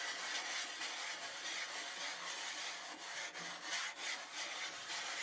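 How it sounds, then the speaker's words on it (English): Continuous coarse scrubbing of a cleaning stone across an oiled, rusty Blackstone griddle top, quiet and close, with a rough back-and-forth rasping texture and no voices. "we'll take our cleaning stone and start scrubbing."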